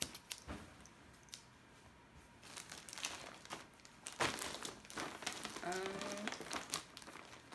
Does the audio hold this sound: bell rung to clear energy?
no